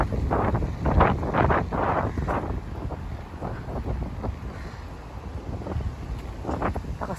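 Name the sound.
strong wind blowing into the microphone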